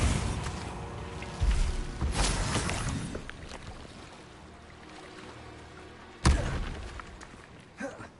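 A Bombarda blasting spell from Hogwarts Legacy bursts with sharp, booming impacts over a rumbling game backdrop, with one loud blast near the start and another strong crash later, followed by a smaller thump.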